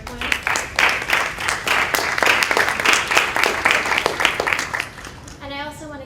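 Audience applause at an academic symposium on music, a sustained round of clapping that gradually thins out before a voice begins speaking at the end.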